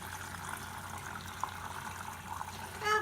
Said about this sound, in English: I have this luscious looking broth that I am going to pour into my pitcher here